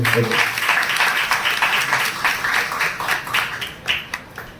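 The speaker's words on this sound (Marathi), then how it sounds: "सर्वांसाठी आपण टाळ्यांचा गजर करूया" An audience at a Swaminarayan Annakut festival gathering claps together in steady, fairly loud applause that holds for several seconds before thinning out, with a little background murmur.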